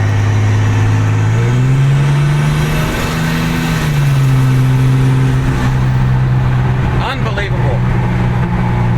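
A turbocharged Ford 300 inline-six 4.9 accelerating hard at about two-thirds throttle, a loud close engine drone climbing in pitch, easing, then rising again, with turbo whine on top for the full clip.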